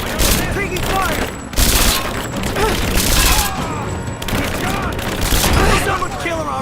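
Gunfire in the video game Rise of the Tomb Raider comes as dense, continuous automatic bursts with booming impacts that fill the scene, with shouting voices mixed in.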